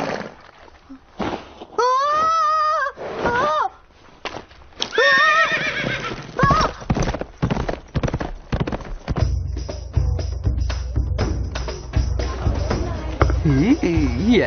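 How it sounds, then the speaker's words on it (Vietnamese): An animated horse lets out shrill, wavering neighs and whinnies mixed with clip-clop hoofbeats, while a crowd murmurs and voices chatter underneath in the later part. "Con leo lên ngựa đi."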